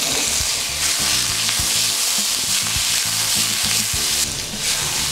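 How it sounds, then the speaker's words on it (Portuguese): Beef stir-frying in very hot oil in a wok for a Chinese dish, a loud, steady sizzle and crackle running throughout with rhythmic scraping and tossing of the metal pan, no voices. "óleo na wok, eu vou saltear essa carne rapidamente"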